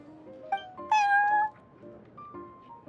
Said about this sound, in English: I thought having a cat take care of our new customers would be quite a nice touch.